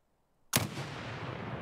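A single sharp rifle shot in the Escape from Tarkov shooter game, firing LPS ammunition, bursts out of near silence and trails off into a long rolling echo.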